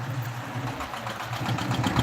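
A fishing trawler's engine idling near the Raidighi bridge in the Sundarbans, a steady low chugging rumble with faint knocking, moderately quiet and continuous with no voices.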